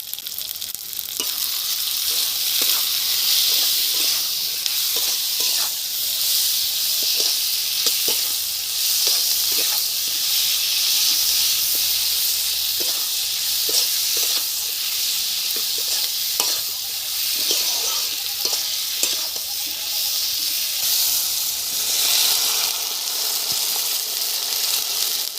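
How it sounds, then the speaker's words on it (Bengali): A spiced mourola fish curry with tomato, turmeric, chili powder and garlic sizzles and bubbles steadily in a pan, a constant close hiss with occasional stirring taps and no talking. "সুন্দর তরকারি ফুটছে, জাল ভালোই উঠেছে"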